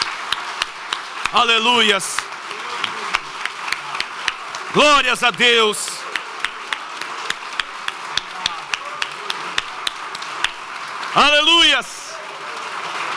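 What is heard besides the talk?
congregation applause in church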